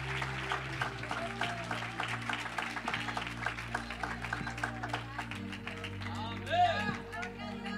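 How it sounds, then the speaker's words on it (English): A church congregation claps in praise at a Spanish-English service, the applause running under music and voices, with dense clapping throughout and a shout rising near the end. "Give a strong round of applause to the Lord"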